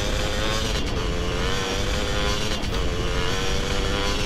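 A motorcycle engine in GTA San Andreas revs hard and steady, a loud continuous drone with slight rises as the throttle is held open.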